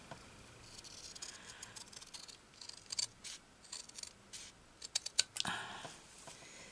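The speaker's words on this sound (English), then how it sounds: "I'm going to cut it off now." Scissors snip paper for a junk journal in a small tin, a series of quiet, close, irregular crisp cuts with short pauses between them.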